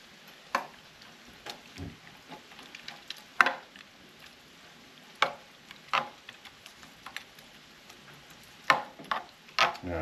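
Cheese being stirred into a breakfast casserole mixture, soft irregular scrapes and taps of a utensil against a bowl, quiet and close with sparse knocks and no talk.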